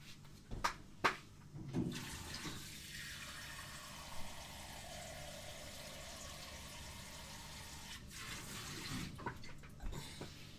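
Water pours steadily into jars of venison being home-canned, a continuous fill running for several seconds between brief clinks and handling knocks at the start and end.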